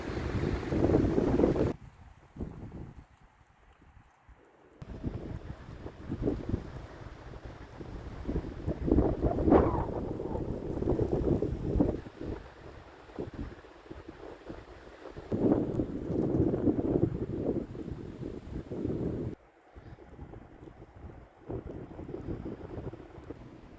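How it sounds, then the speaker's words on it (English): Cold, breezy wind at an outdoor kitchen, heavy gusts buffeting the microphone in uneven surges with a few brief lulls between them, close and rumbling. "It's really breezy here today. Breezy, cold."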